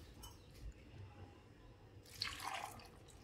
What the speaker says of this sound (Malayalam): അതിലേക്ക് ആവശ്യത്തിന് വെള്ളം ഒഴിക്കാം